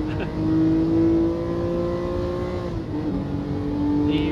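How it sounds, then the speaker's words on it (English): A Porsche race car engine in the Gran Turismo Sport racing game drones with a steady, loud note, rising and shifting through gears as the car pulls away in a race. "I love the sound of that Porsche."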